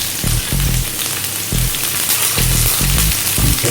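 Chopped garlic and onions fry in a pan for Filipino pancit, stirred with a ladle: a loud, steady sizzle with a rhythmic run of low scraping thumps from the stirring, and no voices.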